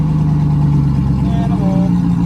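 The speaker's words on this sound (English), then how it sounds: "Let's fire the freaking LS Volvo up, guys." An LS V8-swapped Volvo runs with a deep, loud engine note that holds steady and then shifts in pitch as it is revved, close to the car.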